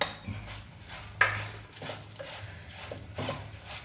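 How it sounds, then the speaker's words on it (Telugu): Sesame seeds drop into hot oil in a clay pot, making short bursts of crackling and light rattling that come and go over a few seconds, close and moderately loud. "ఇప్పుడు నువ్వులు వేస్తున్నానండి."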